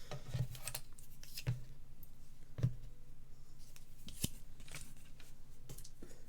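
Scissors cutting card stock for a tent-fold springtime card, a few sharp snips spaced out over quiet room tone, close and moderately faint, with no talking.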